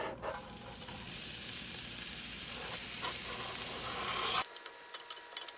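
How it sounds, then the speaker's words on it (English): Vegetables sear in hot olive oil in a pan with a steady, close, hissing sizzle that cuts off abruptly, leaving faint kitchen clicks afterward. "and then we're gonna be searing the veggies up."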